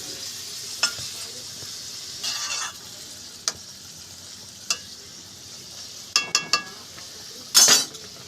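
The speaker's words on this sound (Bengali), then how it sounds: "এবার এর মধ্যে আমরা গরম জল দিয়ে নেব, দিয়ে ভালো করে নাড়িয়ে নেব।" Vegetable curry of potato, pointed gourd, chickpeas and pumpkin being stirred in a pan after hot water goes in, a faint low simmer broken by scattered spoon scrapes and clinks, louder in a quick cluster near the end.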